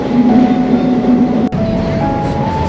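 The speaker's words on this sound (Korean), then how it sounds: "기차를 타고 어디론가 떠나는 기분이 생각보단 근사하다." A passenger train rolls along the rails near Lisbon, heard from inside the carriage as a loud, steady rumble with a faint tonal whine and one brief dip midway.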